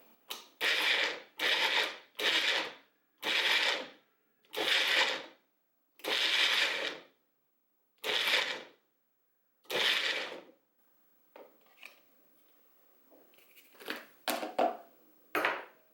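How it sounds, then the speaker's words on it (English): A Magic Bullet blender pulses chunky salsa in eight short, evenly spaced bursts, each a loud close whir, followed by quieter clattering and two final quick pulses. "It's a chunky salsa, but it's not evenly processed. I'm gonna pulse a few more times."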